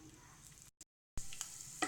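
Fenugreek seeds fry in hot mustard oil in a pan, giving a steady close sizzle with a short silent gap midway and a few faint pops near the end.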